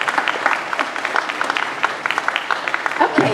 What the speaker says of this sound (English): You can applaud him for sure.